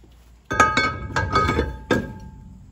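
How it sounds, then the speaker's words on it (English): A brake rotor is slid back onto the rear hub of a 2015 Ram 1500 pickup, a few close metallic clinks and thunks as the heavy disc knocks into place. "Let's throw the rotor back on."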